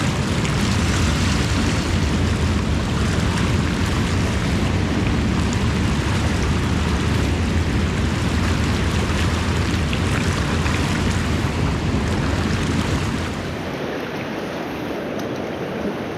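River water rushes and splashes steadily around a person wading through California runoff while fly fishing, a loud continuous wash that eases slightly toward the end.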